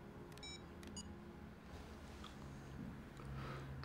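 Keypad tones from a mobile phone being dialed sound as a few short, quiet beeps early on, set in a dim, murmuring room background.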